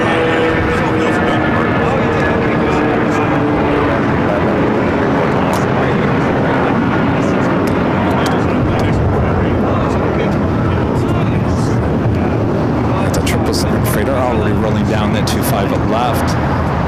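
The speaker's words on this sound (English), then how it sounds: "United flight taking off on the 25" A United airliner takes off from runway 25 right at LAX, a broad, sustained jet roar that stays loud and even throughout, with brief clicks near the end.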